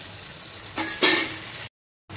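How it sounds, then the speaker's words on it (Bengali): Chopped tomatoes sauté in a pan with onion and a pinch of sugar, making a soft close sizzle with a couple of brief stirring scrapes before a sudden gap of silence. "টমেটোটা একটু কষে নিতে হবে।"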